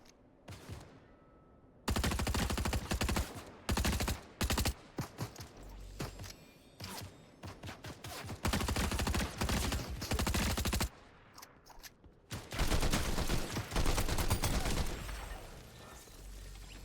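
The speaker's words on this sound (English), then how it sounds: "They were shooting up at me." Fortnite gunfire, with rapid bursts of automatic fire and clustered shots that crack loud and close in long stretches, broken by short quiet gaps, no talk over it.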